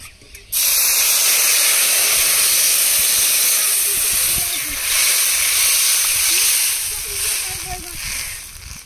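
Spice paste and water hit hot oil with a sudden loud burst of sizzling hiss after a brief pause, holding strong and steady throughout while fish curry is being made, with faint voices at times underneath.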